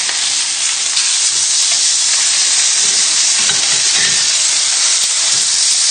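Lamb pieces frying in a very hot pan give off a loud, steady sizzle and hiss that runs without a break, with no voices over it.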